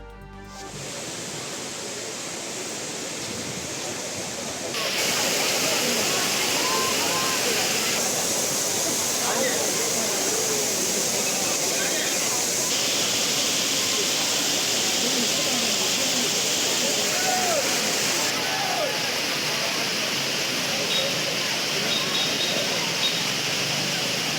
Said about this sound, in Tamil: குற்றாலம் அருவிகளில் ஆர்ப்பரித்து கொட்டும் தண்ணீர்